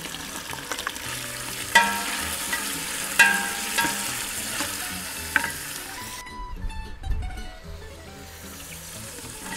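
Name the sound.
cabbage added and stirred into the cooking soup pot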